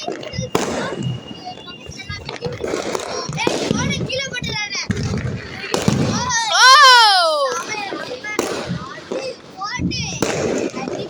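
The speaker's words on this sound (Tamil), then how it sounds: "அங்க மட்டும் இல்ல ஃபுல்லா வெடிக்கிற சத்தம் தான் கேக்குது" Diwali firecrackers burst repeatedly in sharp pops and bangs, with a whistling sky shot rocket rising and falling, while children's voices chatter nearby.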